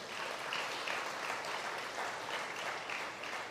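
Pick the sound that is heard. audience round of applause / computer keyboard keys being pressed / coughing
audience round of applause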